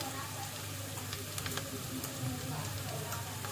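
Potatoes and peas sizzle steadily while roasting in a pan over a high flame, giving a dense, even crackle with small pops throughout.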